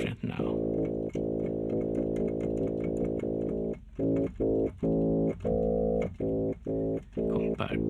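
A Yoshimi (ZynAddSubFx) synthesizer plays a buzzy, harmonically rich tone built on a chirp base function, sounding in repeated sustained notes and short stabs with brief gaps between them.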